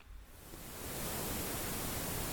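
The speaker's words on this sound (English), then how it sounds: "Back in the days of cassette tapes and playing things off tapes, there was always a little bit of hiss in the background" Vintage cassette tape hiss from a plugin, turned all the way up: a steady, broad white-noise wash that swells in over the first second, then holds constant and fairly faint, with no voices.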